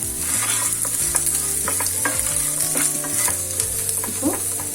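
Pirandai (adamant creeper) roasting in a pan while being stirred, a loud continuous sizzle close by with repeated scraping strokes of the spatula, no speech.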